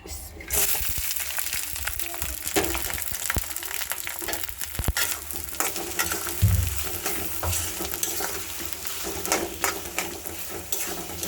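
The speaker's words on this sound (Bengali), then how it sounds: "এই তো দেখেন তেল দিয়ে দিচ্ছি এখন, আর এই পেঁয়াজ কাঁচামরিচ সব দিয়ে দিব।" Onion and green chili frying in hot oil for a lunch dish, giving a steady close sizzle with repeated stirring scrapes and a few sharp utensil knocks against the pan.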